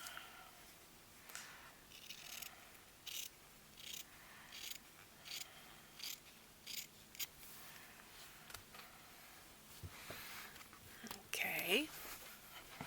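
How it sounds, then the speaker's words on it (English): Scissors snip off the branding strip of a blank journal in short crisp cuts, repeated at an even pace about once a second, quiet and close, with a soft voice at the end. "I want to cut off this branding strip."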